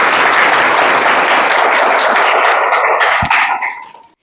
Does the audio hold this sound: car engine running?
no